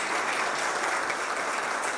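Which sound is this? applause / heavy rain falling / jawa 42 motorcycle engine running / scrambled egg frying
applause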